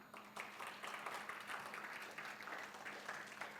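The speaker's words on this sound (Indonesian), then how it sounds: "Boleh tepuk tangan." Church congregation at a Sunday service breaks into steady applause, a dense crackle of many hands clapping continuously at moderate level throughout, with no voices standing out.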